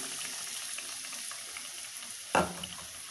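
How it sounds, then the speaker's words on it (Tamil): Batter-dipped egg bonda frying in hot oil, a steady bubbling sizzle throughout with a brief louder splash and crackle near the end as something drops into the oil, close and moderate. "முட்டையை எடுத்து இந்த மாதிரி மாவில் டிப் பண்ணி எண்ணெய் காய வச்சுருக்கோம் காய வச்சு எண்ணெயில் போட்டு பொரிச்சு எடுத்துக்கலாம்"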